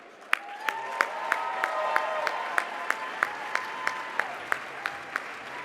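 Audience applause welcoming a speaker onto the stage at the King of Hearts Gala, heard as a steady run of evenly spaced claps over a sustained tonal hum that fades near the end.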